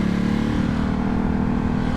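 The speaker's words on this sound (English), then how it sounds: "First gear is very rowdy on this." A Vyrus motorcycle of about 1100 cc pulls hard in first gear, its loud, close engine roaring in a dense, constant rumble for the whole moment.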